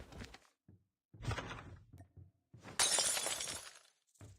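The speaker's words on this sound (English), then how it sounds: "Breaking glass over here." Glass shatters in a Call of Duty Mobile battle royale match, a sharp bright crash with scattering shards following a few duller thunks, heard fairly close with no talk.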